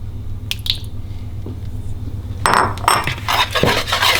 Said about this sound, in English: Now we're going to add the 4 eggs into the sugar and whisk together.